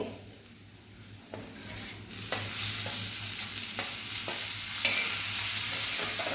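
Onion and tomato sizzling in a pan as they are stirred, with a continuous frying hiss that grows louder partway through and a series of sharp spoon scrapes and clinks.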